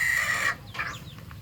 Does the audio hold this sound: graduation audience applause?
no